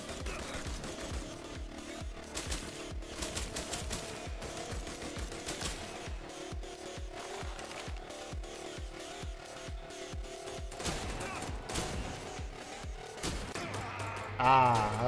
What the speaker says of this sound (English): Ooh, assault rifle.